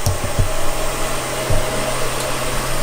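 A Brother Speedio S500X1 CNC mill cuts aluminum dry, without coolant. It gives a loud, steady whirring whine with a sustained tonal hum and a few low knocks near the start.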